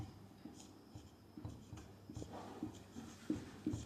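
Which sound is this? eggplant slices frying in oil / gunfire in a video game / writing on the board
writing on the board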